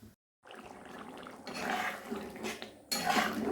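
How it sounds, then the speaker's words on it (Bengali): In a home kitchen, a lid goes onto a pot of papaya curry: soft clinks and scrapes of metal cookware, a brief pause, then a few louder metallic clatters near the end, close and unaccompanied by talk. "এবার আমি সেদ্ধ করার জন্য ঢাকা দিয়ে দেব"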